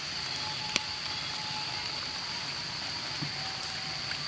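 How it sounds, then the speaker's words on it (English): Steady early-morning rain falls in a continuous soft hiss, faint and even, with a sharp tap or two and a thin steady tone in the background. "Also raining."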